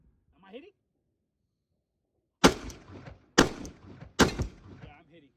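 Cyelee Wolf 2 pistol fired outdoors, three sharp, loud shots about a second apart, each with a short ringing tail, following a brief faint sound before the first shot.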